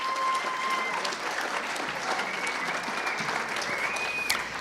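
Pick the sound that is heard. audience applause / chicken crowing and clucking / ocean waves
audience applause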